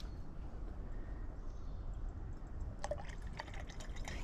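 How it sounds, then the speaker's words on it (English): Freshly brewed coffee is poured into a thermos outdoors in the woods, with a soft, faint trickle of liquid entering near the end over a low, steady background rumble. "I'll pour it into my thermos"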